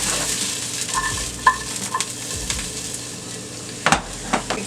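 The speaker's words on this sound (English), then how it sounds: "Careful when stirring at this point because this is like napalm" Mushroom risotto sizzling in a pan as a spoon stirs it, a continuous close hiss with a few light scrapes and knocks of the utensil, no voices.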